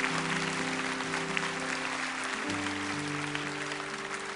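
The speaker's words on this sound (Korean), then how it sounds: "다시 한번 큰 박수로 축복합니다" A church congregation at Bundang Woori Church claps in loud, sustained applause, with held keyboard or organ tones running underneath the dense clapping.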